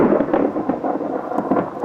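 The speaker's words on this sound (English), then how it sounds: "That's thunder." Rolling thunder from a storm, a continuous low rumble with surging swells over about two seconds, fairly loud and heard alone with no talking.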